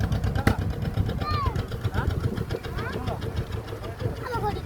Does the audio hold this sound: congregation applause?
no